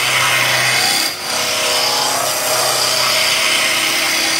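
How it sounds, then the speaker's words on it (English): A skew chisel makes roughing cuts on a friction-driven wood lathe. The lathe hums loudly and steadily, and the blade rasps and scrapes against the spinning wood in continuous passes, with a brief dip in the noise early on. "So it's just a few little roughing cuts with the skew, backwards and forwards."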